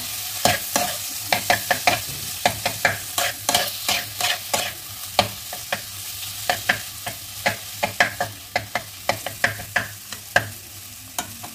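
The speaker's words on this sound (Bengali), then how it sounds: "এর মধ্যে কিছু শুকনো মশলা দিয়ে দেবো, হলুদ গুঁড়ো, কাশ্মীরি লঙ্কা গুঁড়ো আর পরিমাণ মতো নুন দিয়ে ভালোভাবে নেড়ে চেড়ে নেব" Potatoes with dry spices (turmeric, Kashmiri chili powder and salt) fry in a pan for vada pav while a spoon scrapes and stirs in steady, close, repeated strokes over a low sizzle, with no voices.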